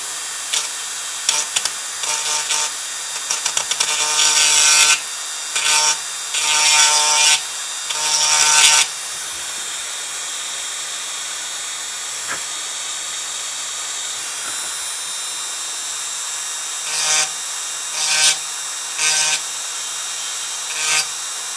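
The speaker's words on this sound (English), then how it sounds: "let's give the Dremel a try" A Dremel rotary tool cuts into a keyboard part in repeated bursts of high, gritty whining, separated by short pauses and quieter stretches.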